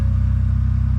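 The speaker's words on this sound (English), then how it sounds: "we're going to start with the silver Bronco with the factory exhaust" Factory-exhaust Ford Bronco Raptor, silver, idling after a cold start on a 94-degree day: a loud, steady low rumble with a fast even pulse, close by and alone.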